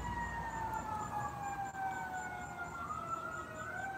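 Wailing emergency vehicle sirens, several tones sweeping up and down together, faint and somewhat distant over a low background hum.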